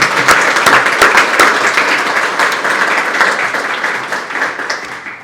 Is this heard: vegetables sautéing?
no